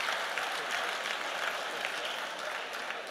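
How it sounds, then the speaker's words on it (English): An audience at a live-streamed community event breaks into sustained, dense applause, steady and fairly close for the whole stretch. "Give him a round of applause."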